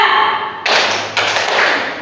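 A group of students clap twice together in a classroom clapping exercise, making two close, loud bursts of slightly ragged, overlapping handclaps with no talking.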